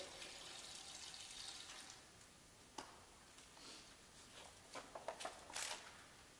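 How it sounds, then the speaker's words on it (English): Water poured from a cup onto laminating resin in a tin, a faint trickling and splashing with a few brighter spills near the end, quiet and without talk. "to pour a cup or two of water on top of it"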